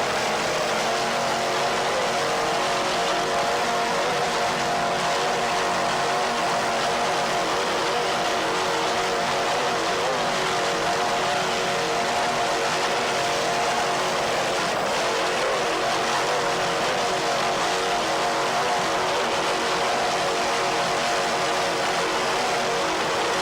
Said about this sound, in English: Those Chevy inboards sound excellent. Two 575 horsepower inboards.